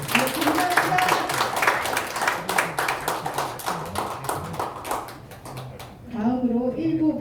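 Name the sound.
audience applause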